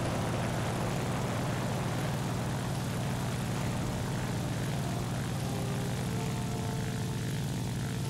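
Propeller engine of a Ki-44-II Otsu fighter plane in War Thunder, a loud continuous droning roar with a steady throbbing low hum that holds for several seconds without pause, heard alone.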